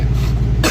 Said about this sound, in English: I coughed and a fry went up.